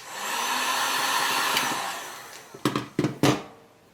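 Heat gun blowing hot air over vinyl wrap on a car's door handle and small parts, a steady close whoosh that fades, followed by three brief rustling bursts of handling.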